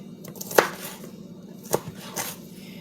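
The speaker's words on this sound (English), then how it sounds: "then I cut the tenders in half" A knife cutting chicken tenders in half on a cutting board, giving two distinct thuds of the blade hitting the board about a second apart and a softer third cut. All are close and clear over a low steady hum.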